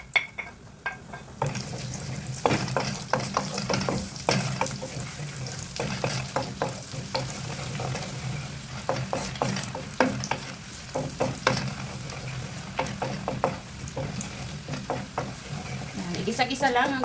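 Garlic sautéing in oil in a frying pan, a steady sizzle under repeated scraping and stirring strokes, with brief pauses and a short voice near the end.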